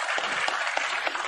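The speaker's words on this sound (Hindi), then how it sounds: "एक बार जोरदार तालियों से माननीय मुख्यमंत्री जी और उनके सरकार के सभी साथियों का अभिनंदन" Broadband crowd applause at a Rajasthan government foundation day ceremony welcoming the Chief Minister, steady and sustained with faint periodic swells throughout.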